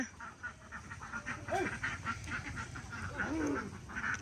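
Ducks quack several times amid a busy outdoor background, with the calls coming and going at moderate distance over steady ambient noise.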